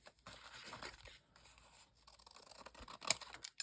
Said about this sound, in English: So, I'm going to trim this little piece off here.